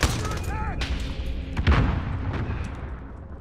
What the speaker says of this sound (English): Throw the other grenade.